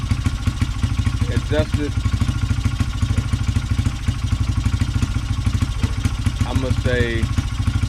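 A 2003 Honda XR80R dirt bike engine idles steadily with a fast, even put-put rhythm after a carburetor fix, with someone speaking over the running motor.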